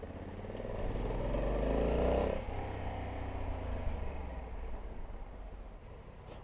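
Honda Africa Twin 1100 adventure sport 2020 motorcycle engine while riding, a close engine drone that swells and rises in pitch over the first two seconds, then eases to a steadier hum with wind rush, no voices.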